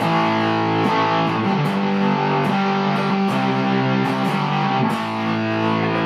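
Electric guitar played through a modded Boss DS-1 distortion pedal with the distortion set very low, strummed chords ringing continuously with a few sharp attacks, close and steady, no voices.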